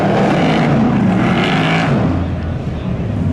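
A loud, roaring rush of a drag racing Chevy Camaro and a 1978 Chevy Corvette at a speedway spectator drags event, a steady full-throttle blare that swells and fades as the cars pass, with an announcer talking over it.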